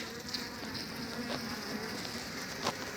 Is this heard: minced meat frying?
no